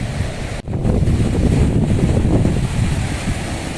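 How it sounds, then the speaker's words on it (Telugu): Cool wind gusts at a waterfall pond and buffets the microphone with a loud, steady rushing roar. A brief dip comes early on, then the roar continues. "ఎక్సలెంట్ గాలి అయితే వేస్తుందండి చల్లగా"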